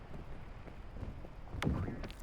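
Wind gusts in the mountain-climbing game PEAK, a low, uneven rumbling rush that swells and fades, with a brief thump partway through.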